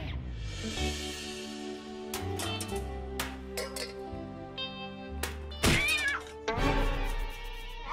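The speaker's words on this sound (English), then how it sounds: "Emergency alley cat alert!" A cat meows several times over a steady musical backing, the cries rising and falling in pitch, with a couple of sharp thumps near the end.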